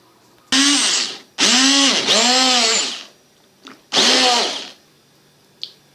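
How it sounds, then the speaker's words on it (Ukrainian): A blender mixing kefir and banana whirs in three loud bursts of rising and falling pitch, each a second or so long, close by, with short pauses between. "це все збиваємо блендером"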